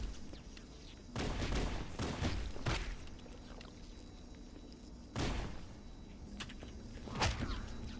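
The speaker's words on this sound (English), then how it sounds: "So I just take them out with the pistol" Pistol fire in Halo: Combat Evolved, several sharp, punchy shots spaced unevenly over a quiet game ambience, with two louder bursts standing out.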